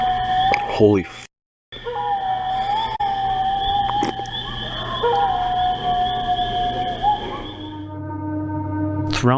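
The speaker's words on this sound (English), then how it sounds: "One of them was a wolf or some form of dog, some form of canine." A long wavering canine-like howl at night, rising and falling in a steady drawn-out tone with shifting pitch, distant-sounding and eerie, broken by a brief gap and joined by other faint cries and background noise.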